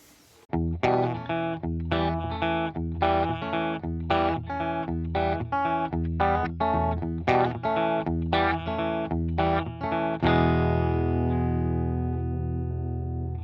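An electric guitar plays a bouncy, rhythmic riff in clean, unprocessed picked notes, ending on a chord left ringing out.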